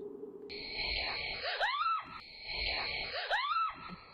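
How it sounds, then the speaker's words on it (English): A terrified woman outdoors at night lets out two long, shrill screams, each rising and then breaking into a wavering wail, separated by a short pause. "is absolutely terrified and screams and hurries back inside"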